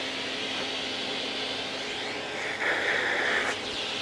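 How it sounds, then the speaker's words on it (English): A vacuum cleaner hose draws sawdust along the T-slot of a CNC table, a steady airy roar with a higher whistling tone rising near the end as the seal tightens. "With the vacuum, I'm going to put it into the end of the slot here and just suck down the length of the slot."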